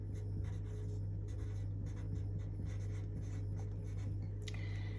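A soft 7B pencil draws lines on paper with continuous close scratching and strokes of varying pressure over a steady background hum.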